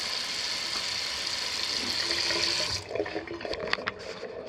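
Water runs steadily from a faucet onto a small floating disc in a condo sink, a close, even splashing stream for a few seconds that then stops, leaving a few faint drips and clicks.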